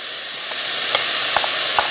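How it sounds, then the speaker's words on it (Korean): Beef sizzles as it is stir-fried with fresh laver in a pan, a steady hiss broken by a few soft scraping stirs of the spatula, close and fairly loud with no talk. "자, 이렇게 볶다가 색깔이 변하면 바로 소고기 하얗게 익으면 물김을 넣고 볶는다고 돼 있어요."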